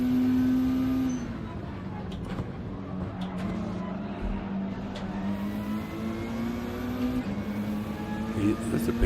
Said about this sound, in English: That's a BMW, isn't it?